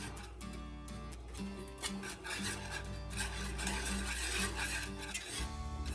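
A utensil stirring hot pepper sauce in a pan on the heat, a steady scraping and rasping rub against the pan bottom, continuous and close over a low hum.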